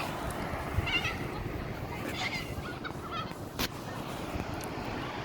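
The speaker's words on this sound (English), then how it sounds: "I think the birds are lovely." Birds calling outdoors, goose-like honks and fowl cries rising briefly over a steady broadband wash of wind or ambient noise, with a sharp louder call near the end; faint background voices may be present.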